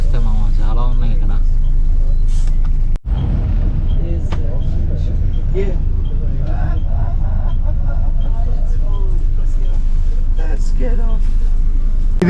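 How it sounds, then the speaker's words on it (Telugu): A premium bus and busy street traffic in Ho Chi Minh City, Vietnam, a continuous close rumble of engines and passing vehicles heard under someone talking throughout. "ఇది ప్రీమియం బస్సు"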